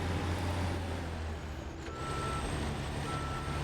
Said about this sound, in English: I really do enjoy this truck